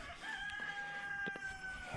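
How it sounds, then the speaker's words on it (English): A rooster crows faintly in the distance in an outdoor garden setting, a long drawn tonal call over quiet ambient background, brief knocks near the end. "Stinking roosters. Who needs some roosters?"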